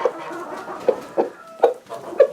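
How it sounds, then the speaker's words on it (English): A rooster gives rapid tidbitting clucks to call his hens over to found food, a few short bursts near and clear against a quiet farmyard background, with no talking. "it's called tidbitting, I think is the name for it, where he's basically finding food, calling his hens, and bringing them over."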